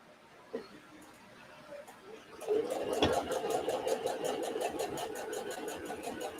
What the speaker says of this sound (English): I'm going to start my sewing again